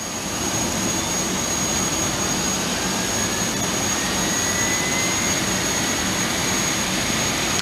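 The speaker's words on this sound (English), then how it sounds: "starter switch to ground, and we'll select the number 1 engine for start" The number 1 engine of an airliner starts in a home cockpit flight simulator, producing a loud, steady jet roar with a high whine that holds without break throughout.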